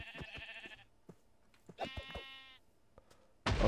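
Sheep bleat twice in a Minecraft-style video game, close and clear, amid soft clicks and footsteps, with a sharp burst of noise at the very end.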